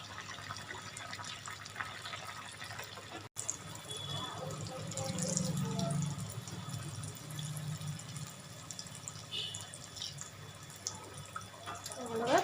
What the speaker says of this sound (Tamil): இப்போ இந்த சமோசாவை நம்ம அதில் போட்டு வாக்கி எடுக்கலாம்